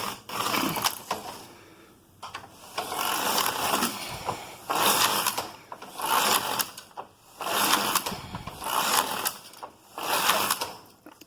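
A double-bed knitting machine knitting ribbing makes repeated rattling, whirring carriage passes, each lasting about a second and a half with brief pauses between, loud and close, with no voices.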